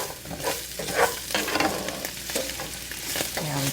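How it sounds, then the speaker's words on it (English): Onions frying in a pan are stirred with a spoon, a steady sizzle broken by scraping and clattering strokes at close range, with no voices. "I may have to stop intermittently to stir the onions,"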